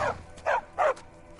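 A dog in the Skyrim video game barks three short, fairly quiet times in a quick, uneven rhythm.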